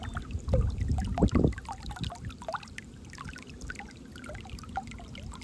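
Irrigation water flowing slowly into a farm field pours and trickles steadily, with a louder gush near the start settling into a soft, continuous flow.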